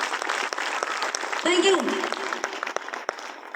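Applause from an audience at a Safe Shop network-marketing business meeting, a dense patter that swells briefly and runs under a woman's continuing speech from start to finish.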